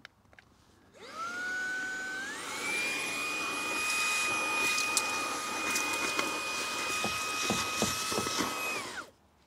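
A Fantikk handheld vacuum cleaner spins up to its high setting and runs steadily for several seconds while lifting sand and grime off a car floor mat, loud and close, with a pitch rise at start and a wind-down at the end.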